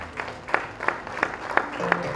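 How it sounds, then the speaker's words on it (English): A short burst of audience clapping at a premiere event, with sparse, fairly even claps that come through distinctly over a low murmur of voices. "put your hands together"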